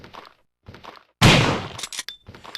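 Zombie body bursting apart in a Resident Evil video game, a sudden loud wet burst followed by a few scattered splattering thuds, preceded by two quieter rustling bursts with silence between them.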